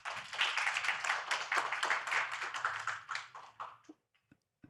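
A conference audience applauds to welcome a session moderator, a dense burst of clapping from many hands that thins out and stops abruptly, followed by a few scattered claps.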